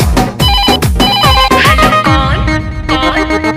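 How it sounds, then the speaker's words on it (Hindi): A phone ringtone plays loudly and continuously, a bright melodic tune with a steady, repeating beat and no voices over it. "ऐसा बात है तो लगा ले फिर से फोन"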